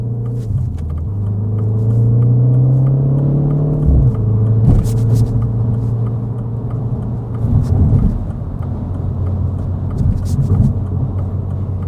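A Mini Cooper JCW with a manual gearbox accelerates hard, the engine note climbing through a gear, dropping at a shift, then pulling again, loud and close inside the cabin.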